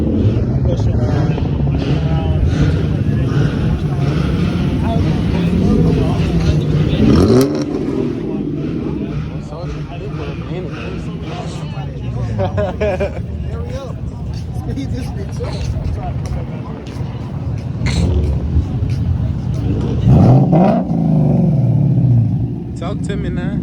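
A Roush car engine at a car meet rumbles loud and close and rises through several revving surges, with voices talking faintly underneath.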